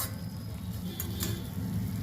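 Cabbage half-cooked in a kadai gives off a steady, close sizzle with soft crackling that runs through the whole moment, with no voices.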